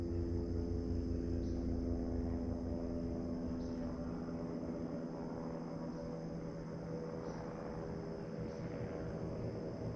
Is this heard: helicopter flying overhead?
yes